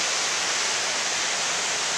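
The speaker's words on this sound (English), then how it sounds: "You've got the waterfall coming down here." The Snowdon waterfall on the Pyg Track gives a steady, broad rushing roar of falling water. The noise is constant and fairly loud, with no voices.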